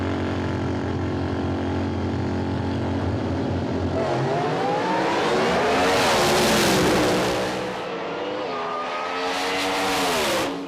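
Nitrous-equipped drag racing cars at an IHRA North American Nationals event blast off the line with a loud, sustained engine roar, pitch climbing and wavering as they accelerate away down the strip, with no talk.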